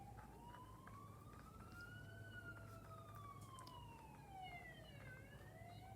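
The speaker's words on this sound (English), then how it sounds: "More sirens." A wailing emergency siren rises and falls slowly, faint and distant over a steady low background hum, with no talking.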